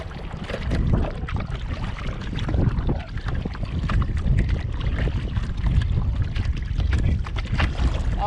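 Kayak paddle strokes dip steadily into open water beside an old shipwreck hull at the Mallows Bay ghost fleet, a continuous splashing wash with some wind noise across the microphone.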